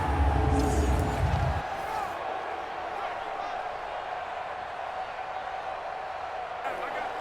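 A stadium crowd in Madden NFL 20, during a preseason game between the Houston Texans and Green Bay Packers, swells into a loud roar at the start, then settles into a steady broad murmur while voices talk.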